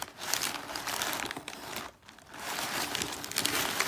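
Close, crisp crinkling and tearing of paper as wrapping is pulled off, in bursts with a brief pause midway.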